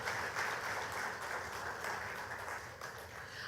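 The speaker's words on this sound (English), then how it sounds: "Let's give them a round of applause." Audience at a Grenada cultural and creative industries conference gives a round of applause, a soft, even wash of many hands clapping heard from a distance.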